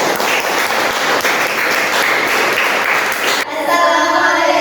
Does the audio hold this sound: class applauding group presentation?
yes